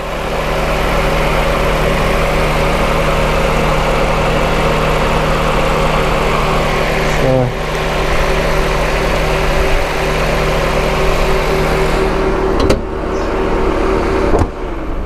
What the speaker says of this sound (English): just the fans there kicking back in again.